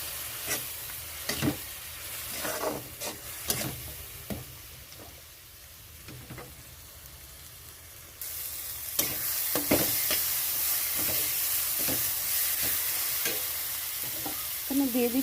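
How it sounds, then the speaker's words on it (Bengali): Cumin paste masala sizzles steadily as it is fried down for a koi and magur fish curry, with repeated sharp clicks and scrapes of a spatula stirring the pan. The sizzle grows louder partway through, and no one speaks. "এখানে দিয়ে দিচ্ছি জিরে বাটা। মশলাটা খুব ভালো করে কষিয়ে নিতে হবে।"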